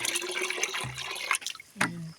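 Water poured from a small container onto bitter gourd plants beside a shallow well, giving splashy gurgling bursts with brief pauses, close and moderately loud.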